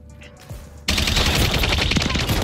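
Rapid automatic gunfire in the video game Call of Duty x Gundam, breaking in abruptly after a quiet moment and continuing as a loud, dense, sustained stream of shots.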